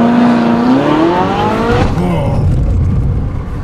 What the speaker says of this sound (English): Okay, are we ready for acceleration test number one?